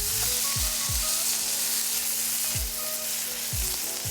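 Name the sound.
tomatoes sizzling in a wok after adding water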